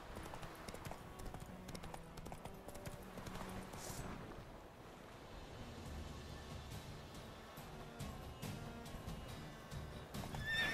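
Horse hooves clip-clopping with a whinny in The Witcher 3: Wild Hunt, game audio running steadily beneath a dense layer of music and ambience, with no talking.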